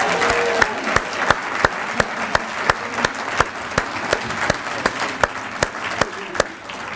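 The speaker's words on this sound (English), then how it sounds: "One more big round of applause for the 91 state champs." A Windsor High School Athletic Hall of Fame crowd applauds the 1991 state champions in sustained, fairly close applause. Sharp, regular claps beat through the general roar at an even pace.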